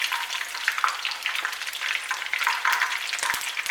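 Battered prawns deep fry in hot oil, a dense, steady crackling sizzle with fizzing bursts that carries on without pause and without any voices.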